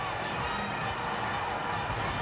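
A cricket crowd roars after a boundary in an Australia versus Sri Lanka match, a broad, steady wash of stadium cheering that holds loud throughout with no clear individual voices standing out.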